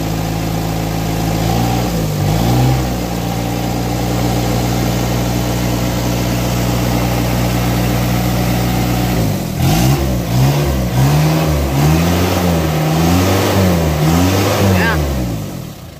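An Isuzu 4JG2 diesel engine idling after alternator repair, then revved repeatedly with rising and falling surges, loud and close, with a voice speaking over it.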